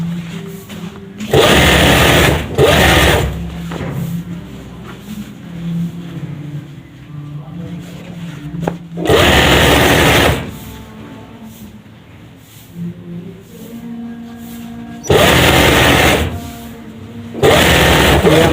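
A sewing machine stitches a gents suit in bursts, each run of rapid mechanical whirring lasting a second or two and separated by pauses filled with a person talking.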